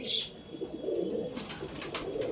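Giribaj pigeons give soft, low rolling coos, faint and fairly distant, with light background noise.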